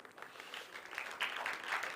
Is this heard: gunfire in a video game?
no